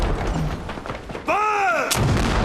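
A naval ship's cannon fires as a heavy boom with a rumbling roar, set against loud ambient noise and followed by a brief sharp crack near the end.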